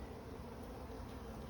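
Honey bees at a hive give off a faint, steady buzzing hum, close by and unbroken, with no voices over it.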